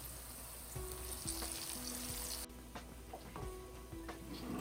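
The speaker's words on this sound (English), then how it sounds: "Now I'll add in the ginger and garlic paste and give it a good stir" Ginger garlic paste fries with onions in a pan, a faint low sizzle with occasional soft stirring clatter, heard close but at a very low level.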